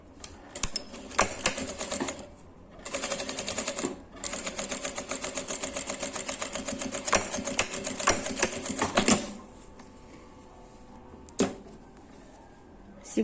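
A sewing machine stitches a fabric seam in rapid mechanical runs, starting and stopping in several bursts with one long continuous run before falling quiet, followed by a single sharp click.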